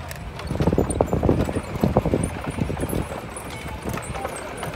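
Hooves clop in a brisk, uneven rhythm on hard ground at an outdoor steam rally, several horses passing fairly close with some wind noise in the background.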